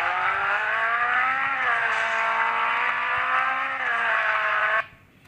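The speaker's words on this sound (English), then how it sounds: "The sound that it makes while driving, the braking noise, etc. are really nice" Car engine in an Android mobile driving game: a steady synthetic engine hum with slight pitch swells, loud and continuous, cutting off abruptly near the end.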